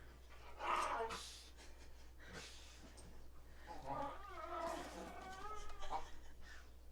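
Pet dogs whine and whimper in a thin, wavering pitch with soft panting breaths nearby, fairly faint, as someone talks over them.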